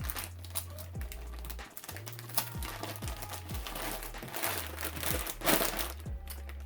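A plastic hair bundle bag crinkles and rustles as it is folded over and the air is pressed out, with soft, uneven crackling and a low rhythmic bumping underneath throughout, faint and close.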